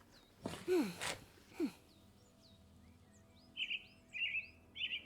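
A bird chirps in the Vertigo video game, a cluster of short, bright tweets near the end, following a couple of breathy vocal sounds over a quiet background.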